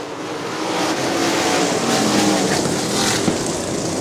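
410 sprint cars race around a dirt track at Butler, their engines blending into a loud, continuous roar that swells and holds steady with no gaps, alone without talk.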